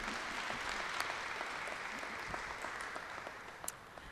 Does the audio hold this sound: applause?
yes